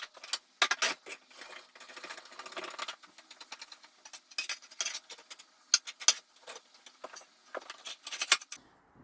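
Thin scrap metal from an old mixer base is bent and folded by hand, producing close clinks, scrapes and jangling metallic rattles in irregular bursts with short pauses between.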